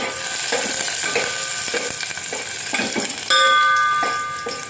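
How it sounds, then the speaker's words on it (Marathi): Garlic frying in hot oil for a fish curry on a lowered gas flame, a steady crackling sizzle with scraping stirs, and a brief bright metallic ring near the end. "आता लसूण बघा गरम तेलामध्ये टाकलं आहे."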